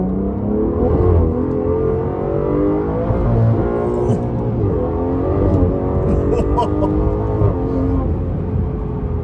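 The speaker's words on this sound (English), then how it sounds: "I feel like the engine's behind me, especially with how loud the damn thing is." A powerful V12 car engine revs and roars continuously, rising and falling in pitch, loud and close as if heard from inside the car.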